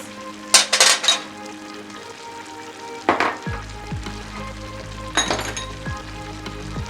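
Onions and sweet peppers go into a pot for a Jamaican-style curry, with three loud bursts of frying sizzle and crackle over a low hum and faint clinks of utensils nearby.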